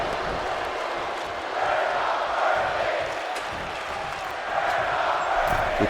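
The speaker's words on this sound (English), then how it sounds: "they're just loving what they're seeing. Chanting, "We're not worthy."" Arena crowd noise from a wrestling match in the video game WWE 2K26, a steady broad roar of cheering and chanting that swells in waves, no clear speech over it.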